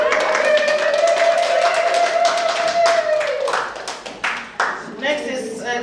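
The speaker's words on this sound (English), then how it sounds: "You all clap for us, would you?" Scattered clapping from an audience at a chapter launch event runs under a sustained tone and voices, thinning into a few separate claps near the end while people speak.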